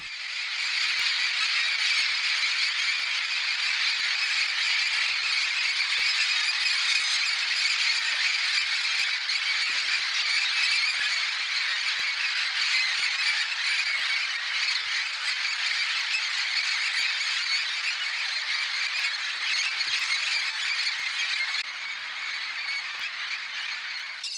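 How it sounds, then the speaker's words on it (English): Dense, continuous din of many orange-winged parrots squawking and screeching together at a roost in the Orinoco Delta, loud and unbroken, a massed flock sound with no pauses. "Roosting areas can be extraordinarily noisy due to the large number of birds arriving, as with these orange-winged parrots"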